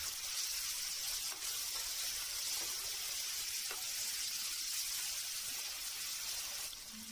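Chopped tomatoes fry in a pan for a crab curry, giving a steady, fairly quiet hiss of sizzling oil that runs unbroken, with a few faint clicks underneath.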